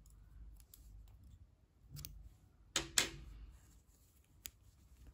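Scissors snip through knitting yarn in a few quiet, sharp clicks, the loudest pair close together, in an otherwise hushed room.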